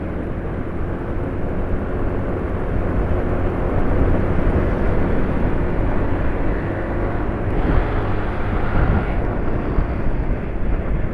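A passing Yamaha NMAX scooter with a rough, noisy engine, heard as a sustained gritty roar amid traffic, swelling slightly as it goes by, no talking.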